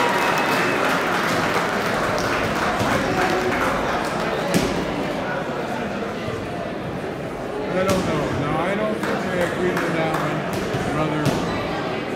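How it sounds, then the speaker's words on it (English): Audience at a New England boxing event breaking into applause, a dense, fairly distant patter of clapping with sharper slaps and thumps, a voice talking over it throughout. "Round of applause for these guys right here"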